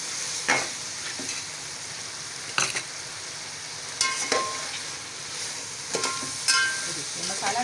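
Spices for beef yakhni pulao fry in hot oil with a steady sizzle, punctuated by several sharp scraping stirs of a spoon against the pot at irregular intervals, close up.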